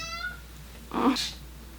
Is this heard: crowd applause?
no